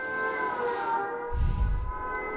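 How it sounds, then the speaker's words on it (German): A rising and falling siren wail sounds in the online survival shooter H1Z1, warning of an approaching gas cloud, as a sustained tone under faint background game audio, with a low rumbling thud partway through. "Jetzt die Sirene und dann kommt so bum, bum, bum."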